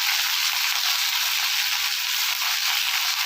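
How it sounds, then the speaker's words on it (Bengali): Drumstick leaves frying lightly with green chillies in a pan: a loud, dense, continuous hiss of hot oil, steady and close, with faint low scraping underneath. "হালকা একটু ভেজে নেব, বেশি ভাজবো না।"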